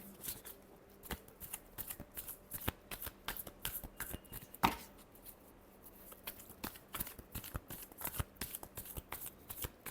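Tarot cards being shuffled up close, a dense run of crisp riffling clicks and flicks over about ten seconds, with one sharper snap near the middle and no talking.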